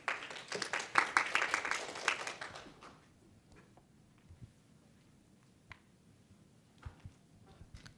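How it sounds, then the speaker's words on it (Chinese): An audience at a Taiwan Excellence selection briefing in Taipei gives brief applause to welcome a speaker, a short burst of clapping that dies away into quiet room noise and faint movement. "我们掌声欢迎温专员。"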